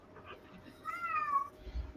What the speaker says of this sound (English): I thought that was my stupid cat.